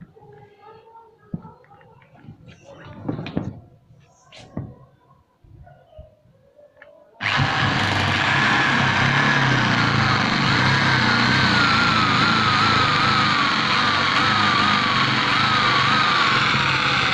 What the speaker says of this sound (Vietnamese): Đây là khung xương bằng inox nên phải khoan mồi bằng cái mũi này xong mới bắt vít được.